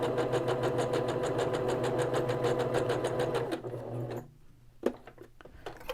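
Sewing machine stitching around the edges of cloth napkins, a steady fast mechanical whir for several seconds before stopping, followed by a few faint handling clicks in the quiet.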